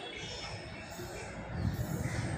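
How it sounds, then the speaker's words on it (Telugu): A Bhubaneswar–Visakhapatnam Intercity Superfast Express pulls in at Brahmapur railway station with a broad, steady rumble of wheels and cars that swells louder toward the end, heard from outside the station. "Bhubaneswar Visakhapatnam intercity super fast express."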